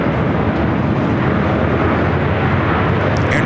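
An arriving airliner on runway 24 right at LAX makes a loud, broad, continuous jet roar that stays steady and close for the whole stretch.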